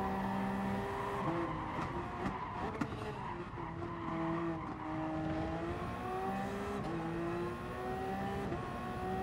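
Race cars in the PS4 game Gran Turismo Sport roar in a pack, with steady high engine drone, shifting revs and squealing tires throughout, loud and continuous with no talk.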